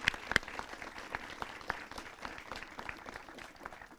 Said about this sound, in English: Please join me in welcoming them with a round of applause, please.